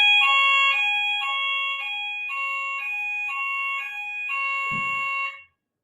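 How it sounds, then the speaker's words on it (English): A building fire alarm blares loud, repeating electronic tone bursts in a steady pattern for several seconds, then cuts off abruptly. "that's a great timing with the fire alarm"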